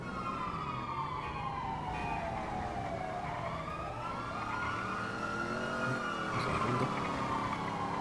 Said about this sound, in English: I heard all the sirens